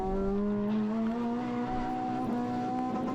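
A Renault Clio RS 200 is driven hard on the Three Sisters circuit during a track day. The engine note is sustained and droning, with pitch climbing gradually under acceleration.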